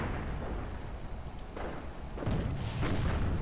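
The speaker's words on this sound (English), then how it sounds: "Ooh, Devil's Brigade takes an unlucky shot from that mortar." Mortar shell explosions from a war video game: a series of dull, deep booms with rumbling tails, growing louder toward the end over continuous low battlefield noise.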